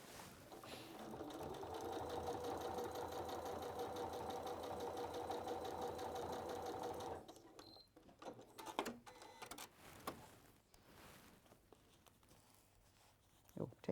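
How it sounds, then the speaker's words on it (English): A sewing machine runs steadily for about seven seconds, stitching a diagonal line across fabric to form a mitered corner, a close, even mechanical whir. It then stops, leaving quiet handling noises and some soft talk. "going to sew that"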